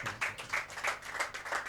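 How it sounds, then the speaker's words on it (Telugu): Audience clapping in a Telugu Christian church gathering, a run of loud, fairly regular claps in quick bursts through a short stretch, with no talk over it. "కొట్టు చప్పట్లు గట్టిగా."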